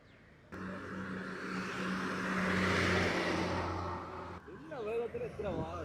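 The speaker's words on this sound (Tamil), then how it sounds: "தொடர்ச்சியாக பாருங்கள் அவ்வளோ வாகனங்கள் வந்து போய் கொண்டிருக்கணும்" A vehicle in a fast-moving police-escorted convoy rushes past, its whoosh swelling and fading over a few seconds, followed by a person talking.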